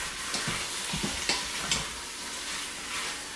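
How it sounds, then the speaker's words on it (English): Beef sizzles quietly in a pan, starting to brown, a soft crackling hiss with occasional scraping stirs and light clicks. "You can hear it sizzling, starting to brown a little bit."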